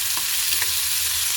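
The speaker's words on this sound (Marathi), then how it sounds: "आणि आता कांदा आपल्याला मस्तपैकी भाजून घ्यायचा आहे" Onion frying in a pan, a steady broadband sizzle with a few soft stirring scrapes over a low hum, held evenly through a short stretch with no voices.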